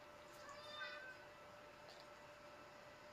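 A cat in a video game gives a short, faint meow with rising and falling pitch near the start, then quiet background hum.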